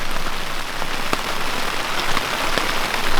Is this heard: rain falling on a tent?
yes